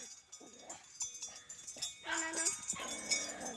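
A dog at a jungle campsite gives short yips and whimpering whines at cows passing by, near and fairly quiet in a few brief bursts, with soft background noise.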